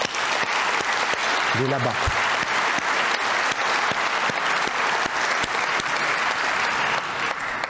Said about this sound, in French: nous pouvons applaudir chaleureusement Frédéric pour ce succès